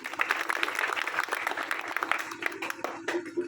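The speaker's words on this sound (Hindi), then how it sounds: "इनके सम्मान में तालियां बजा दीजिए" An audience claps in honour of revered guests at a gathering, dense and continuous for several seconds, with individual sharp claps standing out from the wash and a faint voice underneath.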